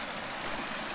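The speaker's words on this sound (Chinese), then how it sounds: "这里有一个小河小溪，大家看一下啊，它的水好清澈" A small, clear forest creek on the Goat Creek trail flows in a steady, close rushing babble, with no speech.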